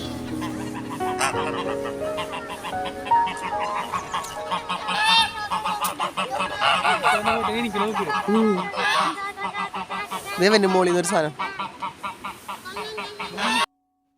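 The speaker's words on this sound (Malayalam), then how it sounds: "നമ്മുടെ വാത്തകൾ തന്നെയാണ് കേട്ടോ." Geese at the Frankfurt zoo honk repeatedly in loud, nasal bursts that come close together and overlap, mixed in with people talking nearby.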